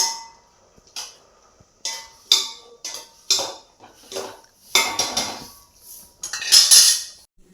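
Chopped potatoes drop into a metal pan of cooking lentils in a series of sharp clattering bursts, close up, with utensil clinks between them.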